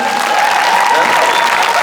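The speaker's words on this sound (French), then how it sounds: "On peut également garder nos applaudissements pour Anthony et Louis-Antoine" A theatre audience at the Célestins claps loudly and steadily for the performance crew, a dense wash of applause with a voice speaking over it.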